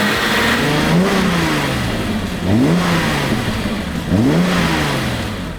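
The 3.5-litre twin-cam six of a BMW M5 E28 or E34 runs nearby and blips up three times in quick revs, each rise sweeping higher before settling back to a smooth idle.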